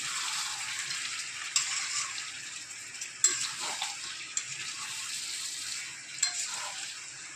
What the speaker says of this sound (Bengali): তারপরে মাংসটা এইভাবে নেড়ে নেবেন